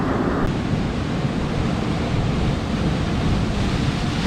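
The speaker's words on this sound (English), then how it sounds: "Big old waves." Big sea waves break and wash continuously on a UK shore during bass lure fishing, a loud, steady surf roar mixed with wind buffeting the microphone, with no talk.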